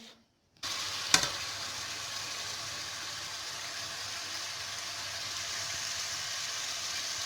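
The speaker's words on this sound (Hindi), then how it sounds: "बारीक कटी हुई प्याज जो है वो डालकर आप इसको तेज़ गरम ऑयल में फ्राई करेंगे" Finely chopped onion hitting hot oil for chicken biryani: after a moment of quiet, a sudden loud sizzle and a sharp utensil clank, then a steady, even crackling fry that holds on without voices.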